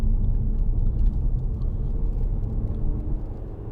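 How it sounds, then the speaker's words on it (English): Steady low rumble of a 2014 Audi A4 Avant 2.0 TDI diesel with S Tronic and Quattro pulling on the road, a dense even drone that holds loud and continuous with no talk over it. "Nice diesel engine, loads of pull."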